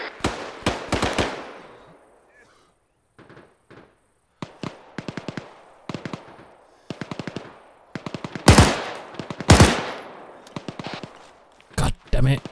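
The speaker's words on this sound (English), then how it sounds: "My gun was on automatic." Bursts of automatic rifle fire in ARMA 3, a milsim PvP event: rapid close volleys with pauses between, several loud sharp shots later, and some distant softer cracks.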